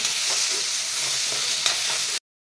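Onion and tomato masala roasting in a pan over high heat, a dense steady sizzle with faint stirring, cutting off abruptly near the end.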